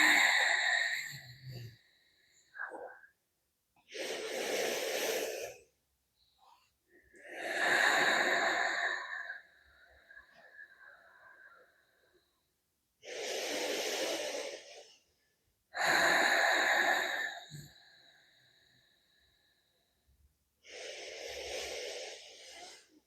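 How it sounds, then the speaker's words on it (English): Slow, audible breaths while holding a yoga strap stretch for plantar fasciitis relief, six separate inhales and exhales spaced by short silences, close and clear. "we'll hold this for 5 breaths"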